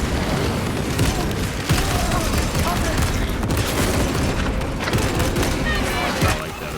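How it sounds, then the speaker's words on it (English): Frag grenade blast and rapid gunfire in the Space Marine 2 video game, a dense, loud stretch of booms and shots running through the whole clip. "Frag grenade deployed."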